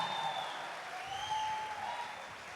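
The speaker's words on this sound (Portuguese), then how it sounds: "uma salva de palmas para ele" Steady applause from an audience at a Catholic religious gathering, a continuous crowd clapping sustained evenly from start to finish with no voices over it.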